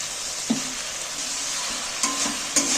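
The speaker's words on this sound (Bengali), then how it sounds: "মশলাটাকে কষিয়ে নেব ভালো করে" Spice paste with turmeric, red chilli, tomato and a splash of water being stir-fried in a pan for dal palak: a steady sizzle broken by a few sharp spoon scrapes and knocks against the pan, no voices.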